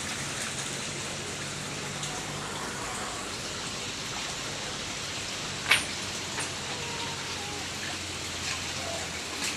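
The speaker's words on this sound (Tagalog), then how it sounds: "Bagyo talaga ni Christine." Heavy rain from Typhoon Kristine pours steadily onto surfaces around a flooded house, a dense continuous hiss with occasional sharper drips and splashes.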